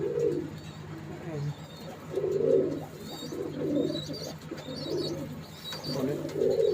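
Teddy pigeons imported from Pakistan coo in low, rolling bursts in a loft, repeating every second or so, close by, with faint chirps and a steady hum in the background.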